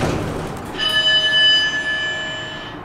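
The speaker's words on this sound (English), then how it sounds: "Now let's ring the bell." The bell of a Schindler 3300 machine-room-less traction elevator rings once with a bright metallic tone that sustains and slowly fades, heard up close inside the car.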